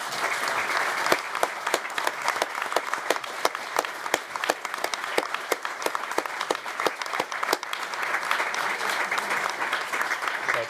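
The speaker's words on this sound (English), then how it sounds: "and Mark and any other core contributors, to stand up for a round of applause, and AHL staff, so Guillaume as well" An indoor conference audience claps steadily for volunteers and speakers, dense sustained applause filling the room at close range for about ten seconds.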